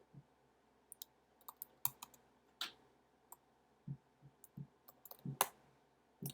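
Scattered, irregular key clicks sound as commands are typed on a computer keyboard in a terminal, quiet and close, with short gaps between bursts.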